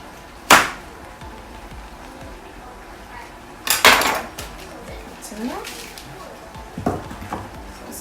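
A knife slicing chunks of seafood for a platter, a few sharp cutting knocks on a board spaced seconds apart amid quiet kitchen clatter, with someone talking nearby.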